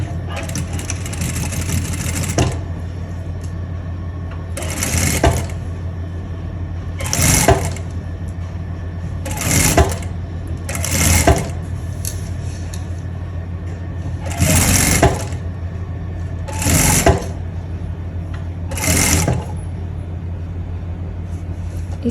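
A sewing machine stitches a deep neck kurti in repeated loud bursts of rapid whirring, separated by short pauses, over a constant low hum.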